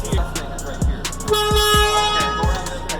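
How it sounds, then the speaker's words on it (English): A loud truck horn blasts several times in short and longer honks over a rumbling engine, close by. "I could not sit in this truck without honking the horn"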